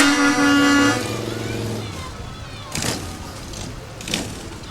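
A horn blares at first, then motorcycles in a Founders Day parade in Foxboro rumble past at moderate distance, engines swelling and fading in turn.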